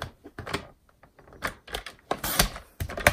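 Paper scraps being trimmed down to size on a paper cutter for a handmade Stampin' Up! card: soft close scraping, sliding and clicking taps in uneven bursts, fairly quiet, with no talk.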